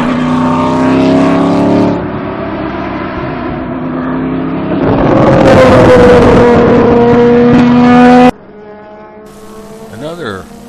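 A Crown Royal number 60 Daytona prototype race car laps at a Grand Am test day, its engine roaring loud and steady, rising in pitch as it passes, then abruptly dropping to a quieter distant hum near the end.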